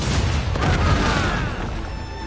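Ship cannons fire in a naval battle in Assassin's Creed Rogue, a loud continuous barrage of deep booms and blasts with rumbling, layered with game sound; no one speaks.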